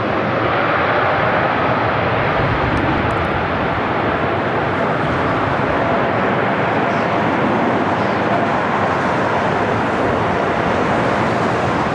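A Delta Airlines Airbus A321neo roars in to land at LAX after a flight from Seattle, a loud, broad, steady jet rumble filling the whole stretch without voices.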